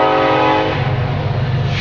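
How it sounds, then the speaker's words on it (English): A passing train in Kansas blasts its horn loudly and close by, a rich sustained chord that cuts off into the heavy rumble and clatter of the rolling cars. "That train does not want me to talk, guys."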